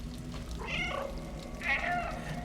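Two distinct cat meows from a video game (Stray), a second apart, moderately close over a low background hum, with no talking.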